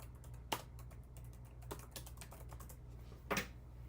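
Keys on a keyboard are struck at an irregular pace, soft ticks mixed with a few sharper presses, quiet and close over a low steady hum.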